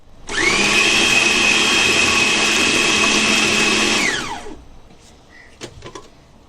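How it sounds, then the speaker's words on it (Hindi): An electric food chopper grinds a raw chicken mixture with egg, ginger-garlic paste and milk, whirring as one loud, steady high-pitched drone for about four seconds before spinning down, then a few faint clicks follow. "अभी चॉपर में इसको पीस के"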